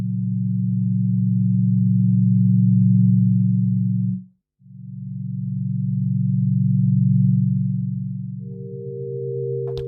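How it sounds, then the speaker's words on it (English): A pure synthesizer sine tone from a pad patch in Ableton Live 12 holds steady and loud, briefly cuts out, then returns, with a higher tone layered in near the end. "Now we've just got a sine wave here"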